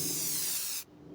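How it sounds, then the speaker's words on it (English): Paint spray car horn from the video game Forza Horizon 5: a loud, steady aerosol hiss lasting most of a second, then cutting off abruptly, leaving a faint low background. "We also have ourselves the paint spray car horn"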